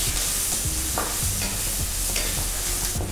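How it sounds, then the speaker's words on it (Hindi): Red and green chillies dry-roasting in a pan for chutney, stirred with steady scraping and a soft, continuous crackle close by, no voices. "साथ में भूनते हैं इसको।"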